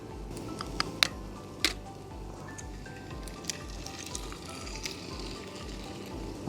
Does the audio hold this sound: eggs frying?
yes